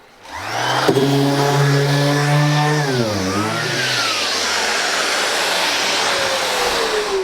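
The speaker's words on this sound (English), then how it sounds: "I'll be sanding down to a 80 grit initially." A Festool sander with dust extraction works wood at 80 grit, giving a loud, steady motor whine whose pitch dips midway and then settles into a continuous broadband hiss that carries on to the end.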